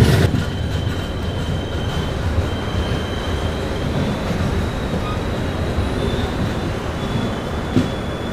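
Visakha Express rolls into Akividu railway station, Platform 1, with a loud, steady rumble of wheels and carriages, faint squeals and clatter running throughout.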